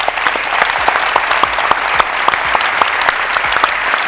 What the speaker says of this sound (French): Et pour ça, je vous applaudis et je vous remercie.